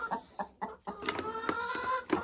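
Second-year laying hens give a string of short, close clucks, then rise into louder, drawn-out squawking calls that overlap one another.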